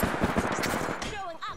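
Rapid bursts of automatic gunfire from the Apex Legends video game, loud and close, rattling in dense repeated volleys with a voice and some other game sounds mixed in near the end.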